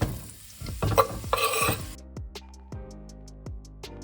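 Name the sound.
onion and mushrooms frying in hot oil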